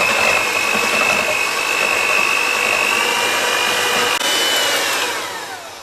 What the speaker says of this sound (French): On va les monter bien fermes avec un fouet électrique. Alors à petite vitesse au départ et ensuite vous augmentez progressivement.